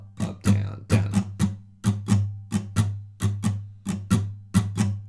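Muted guitar strumming with the fretting hand damping the fretboard, a steady down-down-up-down-up-down-up pattern of percussive scratchy strokes repeating evenly, close and fairly loud, with no talking.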